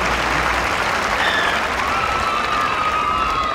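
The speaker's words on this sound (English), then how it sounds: "Big round of applause for Glenn." A crowd applauds a competitor at a wood-chopping standing block championship. The clapping is loud and sustained, with faint cheers and a whistle rising above it.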